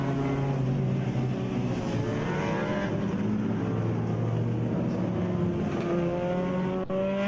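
Racing cars at the 2022 Regional Extreme Festival, Round 1, circling the track behind a safety car, producing a steady, loud, overlapping engine drone throughout with no break.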